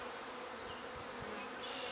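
Dense, steady buzzing of many honey bees in an opened hive with young bees and drones, a close, continuous hum with a few soft low thumps and no talking.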